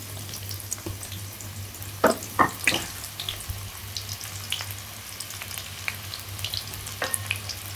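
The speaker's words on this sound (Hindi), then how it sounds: "अब मैं इसमें डाल दूंगी 2 बड़े साइज के जो मैंने प्याज काटे थे वो।" Sliced onions dropped into a large quantity of hot ghee sizzle and fry with a steady crackle, broken by a few sharper spits and bursts, and a low hum runs underneath.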